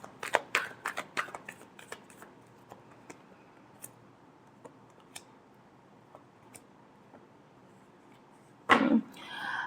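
Tarot cards shuffled by hand, a burst of quick crisp riffling clicks at the start that thins into sparse soft taps, then a short loud rustle of cards near the end, close and quiet with no talk.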